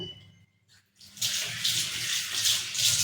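Water runs steadily into a pan while cauliflower fry is cooked, a close, continuous splashing pour that begins after a brief quiet moment.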